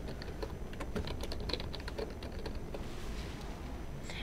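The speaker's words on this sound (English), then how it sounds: "I'll type in Burke Properties" Steady typing on a computer keyboard in Microsoft Word, a fast continuous patter of close, clear keystrokes with no talk.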